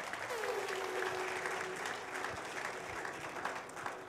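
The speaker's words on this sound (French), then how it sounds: "Est-ce qu'on peut l'encourager avec un peu d'applaudissements?" An audience claps steadily for about four seconds, a dense, even patter of applause filling the room.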